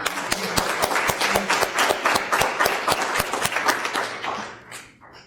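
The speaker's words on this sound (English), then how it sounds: "You can clap." Audience applause at a police awards ceremony as an officer is called forward: brisk, dense clapping from a crowd indoors, holding steady and then tapering off to near silence.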